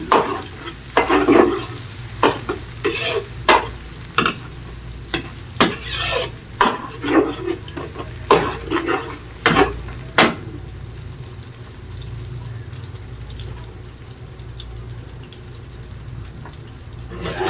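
Garlic sautéing in a pan, a soft sizzle beneath repeated scraping stirs of a utensil against the pan, in uneven bursts that give way to a quieter steady fry.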